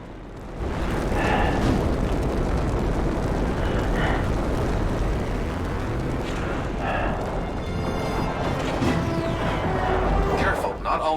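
Vents burst in a Star Trek video game after phaser shots, with repeated rumbling blasts and bursts heard under continuous talk and a dense, noisy battle backdrop.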